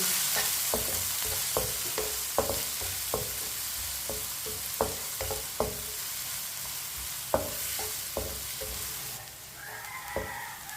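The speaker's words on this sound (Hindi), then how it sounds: "प्याज को ना हल्का सा ब्राउन कर लेंगे।" Chopped onion frying in a pan for tinda sabzi until lightly browned, a steady sizzle with repeated scraping stirs of a spoon, fairly close, with no talk.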